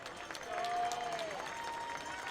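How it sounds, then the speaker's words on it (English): Spectators at a Futures League baseball game applaud a player, a soft, steady patter of clapping from the stands, with announcer chatter layered over it. "well-deserved round of applause for Chase Carter"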